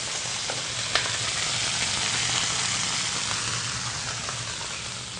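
Duck meat sears in a hot pan without added fat, a steady close sizzle and crackle with a few small pops, running continuously without speech.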